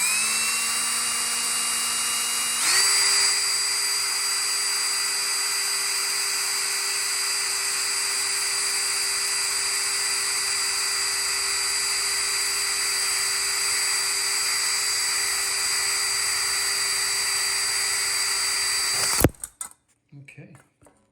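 A power drill with a 3/16 bit bores a hole in a penny stove held firmly in place. It whines up to speed, holds a high steady tone for about sixteen seconds, then winds down and stops.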